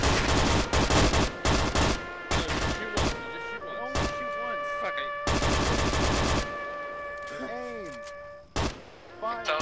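A volley of rifle fire on command bursts out in loud, rapid overlapping shots, several sharp cracks in quick clusters, followed by ringing tones and scattered voices nearby.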